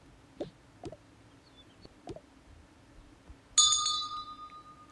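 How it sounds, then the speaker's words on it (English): A bell rings once near the end, bright and metallic with a decaying ring, after a few soft knocks and thumps in a quiet room. "I'm gonna ring the bell, okay?"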